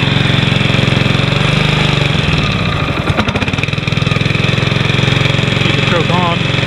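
A Honda HRM215 Harmony lawn mower engine runs loud and close on a cold snowy day with the choke on, a steady chugging drone that stumbles briefly midway before evening out, with a voice heard over it.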